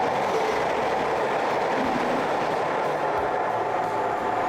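A train passes through a quiet station on the Calder Valley Line, a loud, continuous rolling roar that holds steady throughout with no speech.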